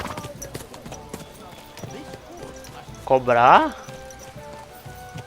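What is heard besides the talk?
horse hooves clip-clopping in the video game Kingdom Come: Deliverance 2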